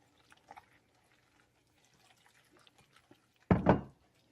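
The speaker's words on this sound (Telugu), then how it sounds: "బియ్యపిండిలో కాస్త ఉప్పు వేసుకొని కాస్త నీళ్ళు వేసి కొంచెం నీళ్ళు వేస్తూ కలుపుకోవాలి" Water poured into rice flour batter with a pinch of salt while mixing for an instant tomato dosa, heard as a brief close liquid splash and stir near the end, after faint kitchen clatter.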